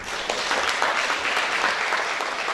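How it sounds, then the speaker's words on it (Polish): Audience at a Senior Day folk ensemble performance applauding warmly, a sustained even rush of many clapping hands with no gaps. "Gorąco brawa zespół Perun Miechowa"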